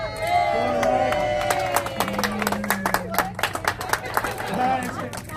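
A crowd at the ribbon-cutting opening of the Shoalhaven Superheroes Respite River Retreat claps and cheers in lively bursts, with excited voices and children calling out amid the chatter.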